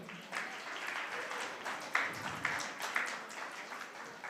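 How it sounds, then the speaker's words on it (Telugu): A congregation at a Sunday worship service claps for a prize winner, producing a few seconds of scattered, moderately loud applause with several sharper individual claps standing out. "క్లాప్స్ కొడదాం."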